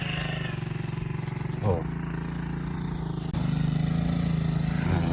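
A loud motorcycle engine roars along a road in a steady drone that suddenly grows louder partway through, with a short spoken exclamation over it.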